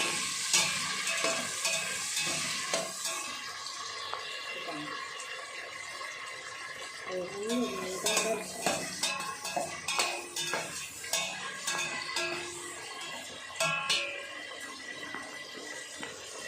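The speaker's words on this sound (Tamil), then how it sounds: "இப்போ வெங்காயம், பச்சை மிளகாவே நல்லா வதக்கிடுவோம்." Onions and green chilies sautéing in a pan, a continuous soft sizzle under repeated scraping and clinking of a metal spoon against the pan, with irregular stirring bursts throughout and no talking.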